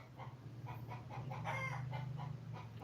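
Chickens kept for breeding in a coop next door cluck in a rapid, evenly spaced run of calls, faint and somewhat distant, with no voices present.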